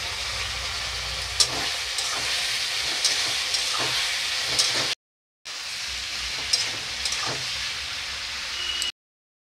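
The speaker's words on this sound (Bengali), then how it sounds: "দিয়ে আরেকটু কষিয়ে নেবো এঁচড়টা।" Unripe jackfruit being stir-fried in a pan for a korma: a steady, close sizzling hiss with faint scraping ticks, broken by two short silent gaps.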